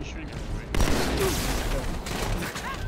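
Gunfire in the video game Halo 2 on Legendary difficulty, with jackal snipers and a turret in play: a dense, continuous fusillade of rapid shots and impacts over a steady loud game soundscape, with a voice speaking briefly.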